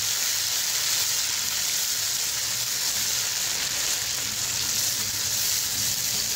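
Onion and ginger-garlic paste fry in a pan for a dhaba-style chana dal tadka, giving a steady, loud, broadband sizzle that holds evenly throughout with no talking.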